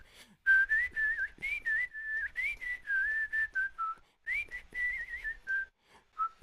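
Whistled melody line for an electronic music drop, a clear, close tune of sustained and sliding notes in short phrases with brief gaps, heard alone over faint low background.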